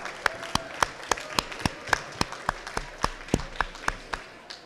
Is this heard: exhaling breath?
no